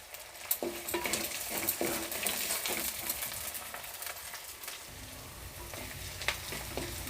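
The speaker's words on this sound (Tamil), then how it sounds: "போட்டு நல்லா பொன்னிறமாக வதக்கலாமுங்க" Shallots, curry leaves and green chilies sauté in hot oil for garlic rice, a steady loud sizzle broken by occasional sharp scrapes and clinks of a stirring spoon against the pan.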